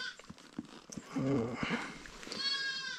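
Goats graze in a snowy mountain forest, one giving a wavering bleat mid-way and another higher cry near the end, with scattered hoof taps and rustling and someone talking over it.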